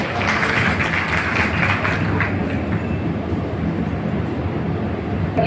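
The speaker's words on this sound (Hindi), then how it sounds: "एक बार जोरदार ताली से इनका भी स्वागत किया जाए" A crowd at a Bhattu Mahato birth anniversary gathering breaks into loud, sustained applause, a dense wash of clapping that stays steady and close throughout, with no speech over it.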